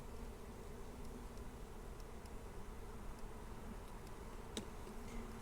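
Honeybees buzz faintly and continuously around an opened super hive during a subarctic beekeeper's inspection, a low steady drone with a few brief ticks and knocks.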